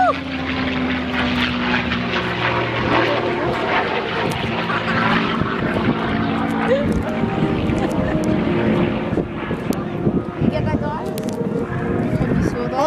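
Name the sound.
propeller aircraft at Avalon airshow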